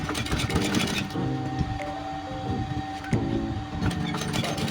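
A sewing machine double-stitches a seam on military trousers. It gives a steady, continuous mechanical whir with a repeating rhythmic hum throughout, moderately loud and close.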